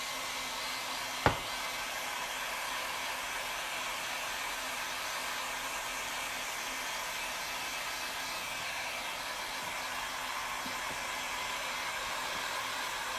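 A hair dryer blows a steady, continuous whoosh while drying fresh Venetian plaster, with a single sharp knock early on and no voices.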